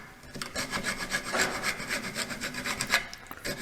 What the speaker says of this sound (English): This is a broaching tool that I made from an old industrial hacksaw blade.